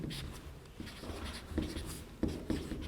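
Chalk or marker scratching out a definition on a classroom board in a chemistry lesson, a steady run of faint, close strokes and taps with brief pauses between words, with no talking.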